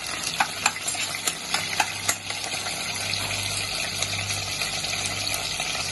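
Garlic, curry leaves and a bay leaf fry in hot oil for a spicy Konkani chicken curry, a steady close sizzle with sharp crackles and occasional stirring scrapes, no voices.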